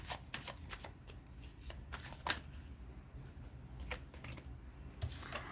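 Tarot cards are shuffled and drawn by hand in a quiet room, with repeated crisp riffling flutters and soft snaps in an irregular rhythm, close and fairly faint.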